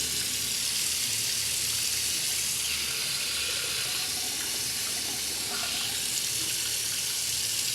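Water runs steadily over an AirPods case in a waterproofing test, a continuous splashing hiss under a faucet, fairly faint and even throughout, with no other sounds.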